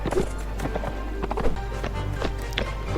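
Horse hooves gallop in the video game Mount&Blade Warband, a rapid irregular clatter of hoofbeats running steadily over a low rumble of battle noise.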